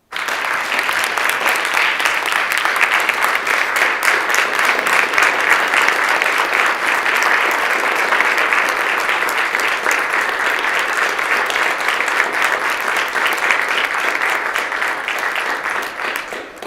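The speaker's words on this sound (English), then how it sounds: "I encourage a great round of applause for our Legislative Council Bureau." A long, loud round of applause fills an assembly chamber during a legislative floor session, many hands clapping steadily and evenly for over fifteen seconds before tapering off at the end.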